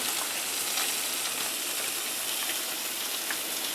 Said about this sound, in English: I'm going to flip my plantains a little bit right now.